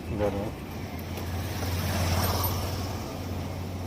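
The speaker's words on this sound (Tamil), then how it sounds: "இப்போ நம்ம ஸ்டார்ட் பண்ணுறோம், வண்டி ஸ்டார்ட் ஆகிடுச்சு" A Honda Activa 125 BS6 scooter starts and idles, a brief start-up followed by a moderate, steady low engine hum nearby, with a voice talking briefly at the start.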